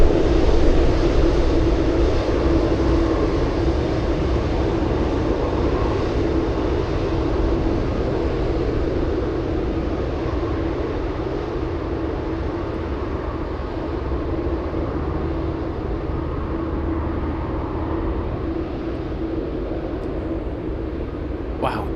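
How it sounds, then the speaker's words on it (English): A UPS Boeing 747 at Anchorage airport fills the air with a loud, steady jet roar that holds for the whole stretch and eases only slightly toward the end. "the UPS 747 stole the spotlight from the C-17 Globemaster"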